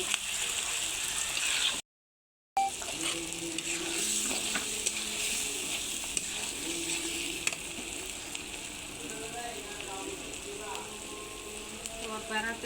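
Chopped tomatoes hitting hot oil in a frying pan set off a steady, close crackling sizzle that persists throughout, broken only by a brief silent gap, with faint occasional stirring.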